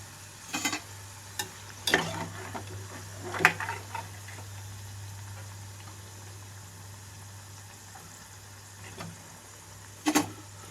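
Fenugreek leaf pakodi frying in hot oil, a steady low sizzle with a few sharp crackles and pops scattered through, close and fairly quiet.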